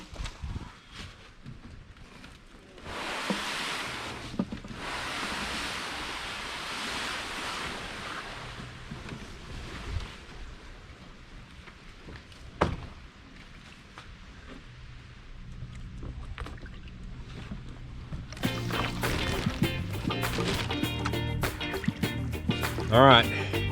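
Canoe moving downstream on a creek on a cold 43-degree morning, with steady water wash and wind noise against the microphone, occasional paddle knocks, and louder close splashing and rustle near the end.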